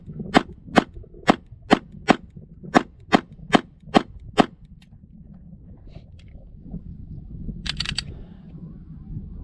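A Springfield Hellcat pistol is drawn from a holster and fired outdoors in cold wind: nine sharp, loud shots in a quick, even string, then quiet handling noise and a faint metallic click.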